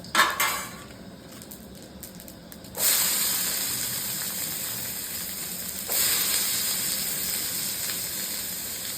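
Onions hitting hot oil in a pan beside fried peanuts, a sudden loud hiss that settles into a steady sizzle, with a second surge of sizzling partway through and a clink of utensils at the start.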